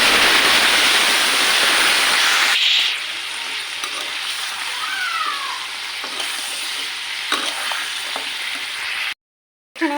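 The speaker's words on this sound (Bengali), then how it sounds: "এবার আমি পটলগুলো ভেজে নেব" Pointed gourd fries in hot oil, first with a loud, dense sizzle that drops after about two seconds to a softer, steady crackle. A faint cat meow comes in midway, and the sound cuts out briefly near the end.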